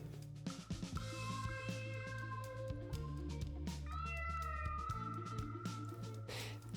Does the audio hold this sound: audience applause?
no